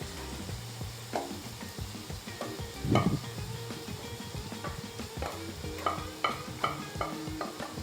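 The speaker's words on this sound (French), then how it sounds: "Alors maintenant que c'est cuit, on va tout mélanger." Quinoa being stirred in a pan with onion, garlic, squid tentacles and chorizo for a stuffing, a soft continuous scraping and gentle sizzle with a few louder clinks of utensil on pan, no talking.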